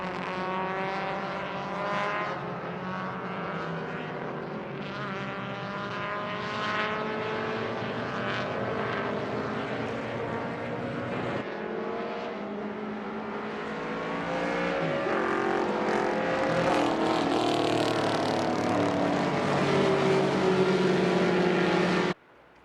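Vintage race cars, including a 1956 white Chevrolet Corvette, starting an SVRA race at Indianapolis, with loud layered engines roaring and rising in pitch as they accelerate away together.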